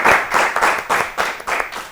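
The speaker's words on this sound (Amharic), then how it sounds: "አጨብጭቡላቸው በደንብ አድርጋችሁ" An audience claps for students at a school event, a brisk burst of applause with rhythmic pulses of many hands, loud and close, without talk.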